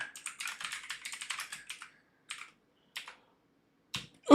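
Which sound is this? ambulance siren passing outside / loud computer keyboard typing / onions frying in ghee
loud computer keyboard typing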